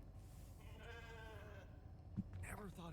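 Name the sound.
sheep bleating in the video game The Alters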